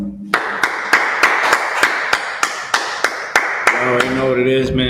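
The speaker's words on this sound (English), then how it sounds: "let's clap it up." A small audience claps in a steady, spaced rhythm of distinct hand claps over a room with a talking voice, with the clapping giving way to speech near the end.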